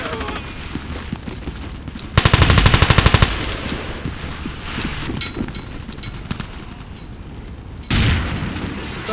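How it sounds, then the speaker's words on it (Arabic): Video-game combat: a rapid burst of automatic gunfire rattles for about a second, followed by low rumbling action and a later heavy grenade-like boom, all fairly loud. "ألقيت قنبلة."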